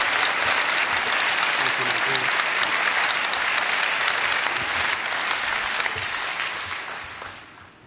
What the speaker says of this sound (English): let's have a nice round of applause for Bud Moore.